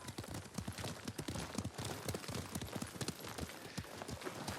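A horse gallops in the video game Ghost of Tsushima, rapid rhythmic hoofbeats thudding steadily and close throughout, with no speech over them.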